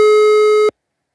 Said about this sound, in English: this person's phone is ringing